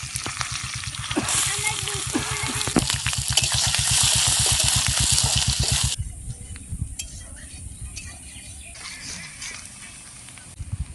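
Chopped onions dropped into hot oil already frying bay leaf and dried red chili, a loud close sizzle with rapid stirring and scraping of the pan, easing to a quieter steady frying hiss after a few seconds.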